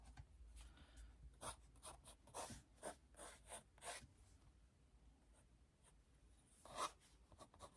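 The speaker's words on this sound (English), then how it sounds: "So just a rough, quick sketch." A pencil makes a rough, quick sketch on paper, with soft scratchy strokes arriving in short irregular bursts and pauses, close and quiet, and no voices.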